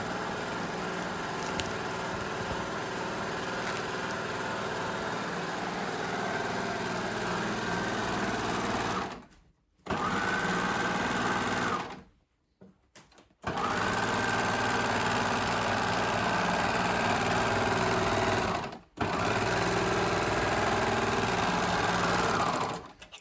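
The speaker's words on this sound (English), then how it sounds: "I'm just gonna serge all the way here at the top opening and at the bottom leg openings to make sure the edges don't fray" A serger overlocks the raw edges of wide trousers in long, fast, whirring runs, stopping briefly a few times between seams before starting up again, close and steady with no talking.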